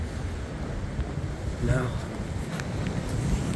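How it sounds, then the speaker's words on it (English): Strong wind of Storm Eowyn buffets the microphone at night near midnight, a steady low roar with gusty surges throughout, while a voice speaks briefly over it. "very windy"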